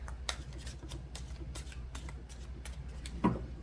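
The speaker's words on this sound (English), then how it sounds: "Let's just shuffle once more." Tarot cards being shuffled by hand in a quiet room, a run of soft riffling and flicking bursts spaced through the stretch, ending in a slightly louder snap of the deck; no talking.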